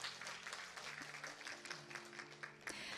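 An audience at the opening of an international wetlands symposium applauds an introduced speaker, quiet but steady clapping from many hands over a low hum, with a louder burst near the end.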